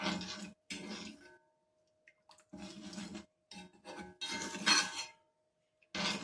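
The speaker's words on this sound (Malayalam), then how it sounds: "എന്നിട്ട് നല്ല പോലെ ഒരു മിക്സ് ചെയ്ത് കൊടുക്കുക" Homemade hair oil is mixed in a pot with repeated bursts of scraping and clinking from a utensil, separated by short silent pauses, close and moderately loud.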